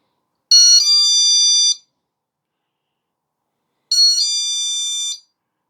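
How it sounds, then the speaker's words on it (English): A TECKNET door/window alarm sensor lets out two loud, high-pitched electronic alarm bursts, each about a second long, separated by a few seconds of silence. "So when you open, boom, it triggers the alarm."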